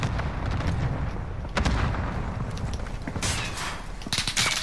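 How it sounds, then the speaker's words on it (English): Gunfire in a battle royale game, repeated sharp cracks and heavier booming shots at varying distances, some loud and close, scattered irregularly over a noisy battlefield backdrop. "Oh, who am I getting shot by?"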